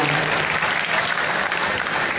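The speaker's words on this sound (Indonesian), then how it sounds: "Tepuk tangan dulu dong untuk kita semua" Audience applause fills the hall at a stand-up comedy event in Banda Aceh promoting the 2017 regional elections, a dense, steady wash of many hands clapping close and loud throughout.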